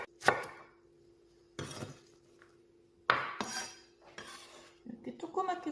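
A knife chops onion finely on a board for Korean tofu doenjang stew, giving a few separated bursts of sharp chopping taps with pauses between, close and fairly loud, no talking.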